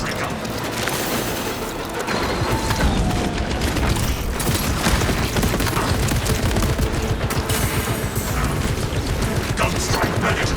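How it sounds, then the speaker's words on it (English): Sustained, dense automatic fire from the Tarantula sentry gun in Space Marine 2, a continuous loud rattle of rapid shots with booming impacts running throughout, dense battle noise packed tight with little pause. "Activating Tarantula sentry gun."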